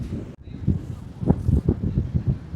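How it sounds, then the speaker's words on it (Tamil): Gusty sea wind buffets the microphone in a steady low rumble, with voices talking over it throughout. "இங்கே காற்று அடித்து தள்ளுவு பாருங்க"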